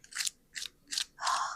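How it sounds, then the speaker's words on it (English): Four sharp crunches of a crispy fried southwestern egg roll, close and distinct, evenly spaced with the last one drawn out longer, with no talking. "Listen to that crunch."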